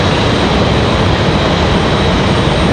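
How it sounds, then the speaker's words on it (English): Taxiing to the gate at Raleigh Durham International Airport, a Copa Airlines Boeing 737-800 produces a brief, loud, steady engine rumble close by. "There is Copa 466. 3 hours, 54 minutes of flight time for the 737-800"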